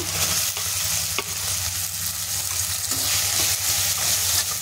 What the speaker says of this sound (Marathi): कांदा चांगला सोनेरी रंग येईपर्यंत परतून घ्यायचा